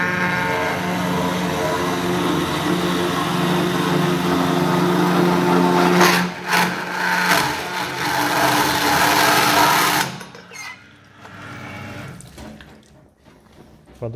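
Yilmaz SDT275 low-speed metal cutting saw from 2016 running at first speed with coolant flowing, a loud steady whirring drone with a watery hiss for about ten seconds, then cutting out to quieter clatter and handling noise.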